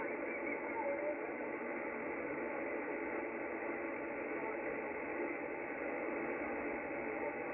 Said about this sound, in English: There's an Italian station I can hear.